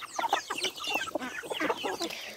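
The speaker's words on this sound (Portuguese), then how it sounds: "temos um frango suri aqui" Suri chicken clucking close by in a series of short, busy calls over about two seconds, with other fowl chatter mixed in and no talk.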